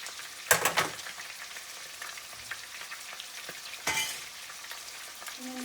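Canned tomatoes and kidney beans are dumped into a hot pot, giving two brief wet splashing bursts followed by a quiet sizzle.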